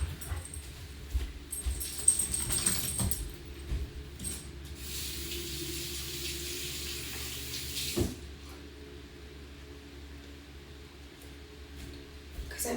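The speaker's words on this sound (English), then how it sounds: "Just rinse my hands" Tap water running over rinsing hands, a steady close hiss of flowing water with brief splashes and a small dog whimpering at moments.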